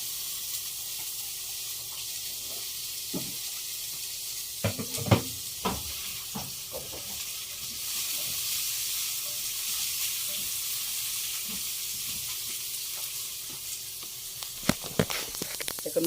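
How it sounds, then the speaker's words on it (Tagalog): Ingredients sauté in a hot pan with a steady, close sizzle, broken by occasional scrapes and knocks of a stirring utensil. "Pag nagigisa ko, pinagsasama-sama ko na yan"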